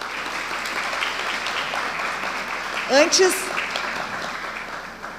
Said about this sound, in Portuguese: Aplausos para os nossos convidados.